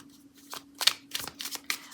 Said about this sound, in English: I really like this pocket edition size, so much easier to shuffle.